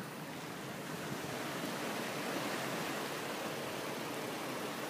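North Atlantic surf washes over a rocky beach in a steady, broad roar of breaking water, with some wind noise on the microphone and no voices.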